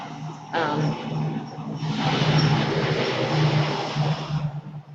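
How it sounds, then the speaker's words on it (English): A large truck rumbles past close by, its broadband engine and road noise swelling over a couple of seconds and holding steady before easing off, with a low steady hum underneath. "I paused while the truck went by."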